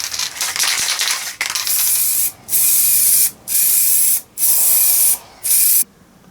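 Spray paint hisses in loud, steady bursts as a primer coat goes onto a Qualcast Classic 35S lawn mower part, with several pauses between passes and faint rattling at the start.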